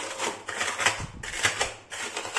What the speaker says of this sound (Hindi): उसको क्या करेंगे, कटोरी की मदद से इस टाइप से प्रेस करेंगे